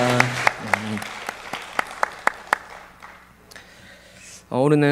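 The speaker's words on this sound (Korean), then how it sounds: "감사의 박수 올려드리겠습니다" At a Wednesday church worship service, a handful of sharp, separate claps ring out in a loose rhythm, then fade into quiet room tone before a voice begins speaking near the end.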